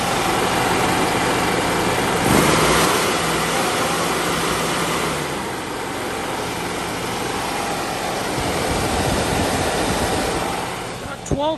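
A pressure washer with a Kohler engine and Udor pump runs steadily at low RPM, giving a continuous loud drone with a rushing hiss of spray and no break.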